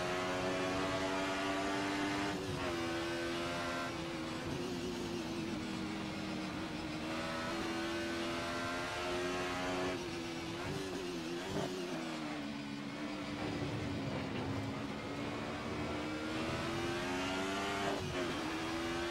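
Racing cars driving in Assetto Corsa, including a small Mercedes and an Opel, with engines revving and shifting through gears in a continuous, loud, wavering drone, heard alone.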